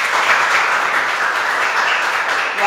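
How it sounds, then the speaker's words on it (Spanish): An audience at a Colombian ceremony applauds steadily, a dense, even wash of many hands clapping, close and fairly loud, sustained without pause. "Un aplauso para él, por favor"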